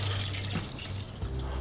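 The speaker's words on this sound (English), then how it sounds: "we're going to add just normal water to approximately double the" Plain tap water poured into a pan of reduced ale and beef for a steak and ale pie, a steady close splashing and gurgling stream that runs the whole time with no talk.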